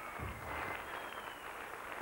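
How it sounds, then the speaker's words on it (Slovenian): Audience at an international dance championship in Slovenia applauding a dance couple, steady soft clapping heard from a distance in a large hall, with no voices over it. "aplavz za Vlasto Rotar in Marka Rusa."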